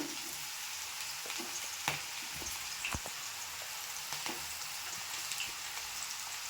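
Chopped okra fries in hot oil, giving a steady close sizzle punctuated by scattered sharp pops as seeds splutter in the pan, with no voices.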